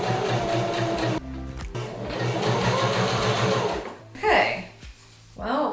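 Sewing machine running a straight stitch with elastic thread, a steady loud mechanical whirring and rapid needle chatter, pausing briefly twice before a short final burst; no talking over it.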